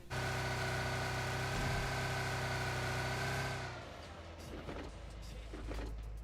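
A car engine in PUBG Mobile runs loud and steady for several seconds, holding a droning hum. It then drops away into a quieter, rumbling stretch with scattered bumps.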